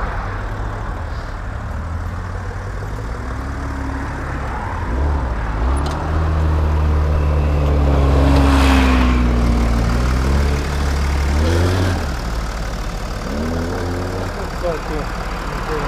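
A BMW X6 diesel engine idles with a steady low rumble that swells briefly as if revved, while people talk over it.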